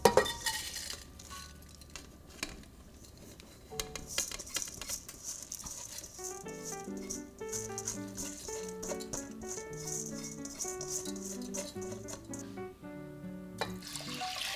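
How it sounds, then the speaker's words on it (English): Rice is drained and tipped into a pot, giving rattling grains and light clinks of metal cookware through the first several seconds. Steady background music plays over it. "Drain the rice and place it in a pot."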